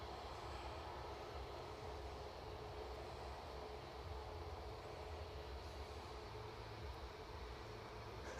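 An Aer Lingus ATR 72-600 turboprop arriving from Dublin at Edinburgh, a steady low engine drone that stays faint and distant, holding evenly throughout with no voices.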